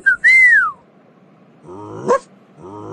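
Dogs yip and whimper in short high bursts, with a bright whistle-like cry at the start and a second sharp yelp later, close and fairly loud over near silence.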